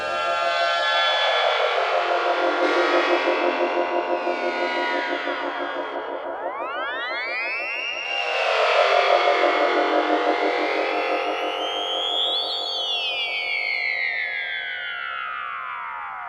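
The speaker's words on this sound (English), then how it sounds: "That's my theremin being manipulated in the same kind of fashion that the fingerboard is in this patch." Theremin signal processed through a Haken Continuum EaganMatrix patch, heard alone as sweeping, gliding synthetic tones that rise and fall in swooping arcs with layered echoing harmonics, bright and continuous.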